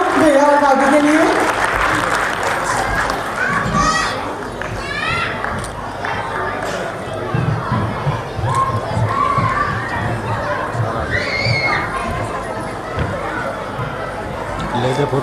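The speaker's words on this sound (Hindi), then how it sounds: "जोरदार तालियां भैया और भाभी के लिए।" A crowd at a husband night event claps and cheers loudly for a couple, with shouts, children's voices and chatter mixed throughout the long stretch of applause.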